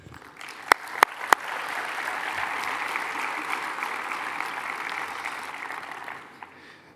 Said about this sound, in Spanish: A todos ellos también un fuerte aplauso